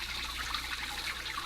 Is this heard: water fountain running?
yes